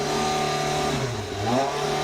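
A Porsche 918 supercar at a parade at Wilton House revs its engine close by. The loud, steady drone dips in pitch, then climbs again, with no talking.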